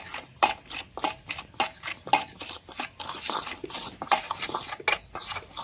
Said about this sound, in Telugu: ఇట్లా కలిసేటట్టు కలపాలి అల్లం వెల్లిగడ్డ.